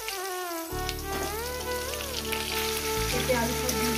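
Potatoes and papaya frying in a pan with cumin seeds. A strong, even sizzle and crackle starts abruptly and continues steadily up close.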